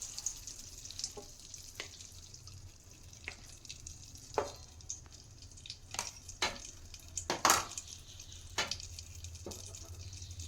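Ghee is spooned into a pan and heated for frying gum resin, with a low steady sizzle beneath scattered sharp clinks and scrapes of a utensil against the pan, fairly close and without talk.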